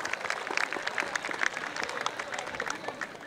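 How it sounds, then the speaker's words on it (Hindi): An audience at a poetry recital claps steadily, a dense patter of many hands that stays even throughout. "उनके लिए तो ज़ोरदार तालियां बनती हैं"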